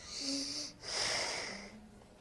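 A child breathes heavily after respiratory physiotherapy, two long airy, slightly wheezy breaths close to the microphone, separated by a brief pause, with no talking.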